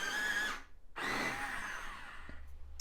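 A warm grey 3 coloured pencil is sharpened for a blue tit drawing, giving two bursts of dense whirring grinding close up, separated by a short gap and fading into a quieter tail.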